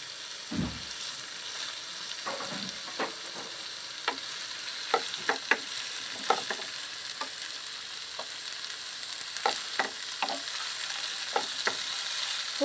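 Paneer and capsicum sauté in a pan, giving a continuous soft sizzle broken by repeated scraping and stirring clicks at an irregular rhythm, close and moderately quiet, with no talking.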